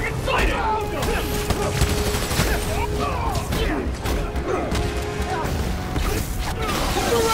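Gunfire in the Spider-Man Miles Morales video game: rapid, sharp shots and impacts layered over dense action noise and mechanical clatter, with a character shouting between bursts.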